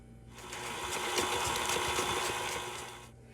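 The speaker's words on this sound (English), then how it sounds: "I'm going to go ahead and add it to my bowl now. And let's let's mix it up." An electric mixer beats cream cheese in a bowl, a steady whirring motor hum that swells and fades over a few seconds, heard alone without talk.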